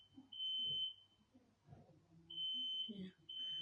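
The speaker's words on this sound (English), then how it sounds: "So the fire alarm." A household fire alarm sounds in short high-pitched beeps, two longer tones a couple of seconds apart, faint and distant beneath quiet talk.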